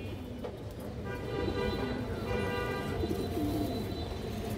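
A black-necked, ring-eyed tournament pigeon coos in low, rolling murmurs that run on steadily against a constant background hum, with no voices present.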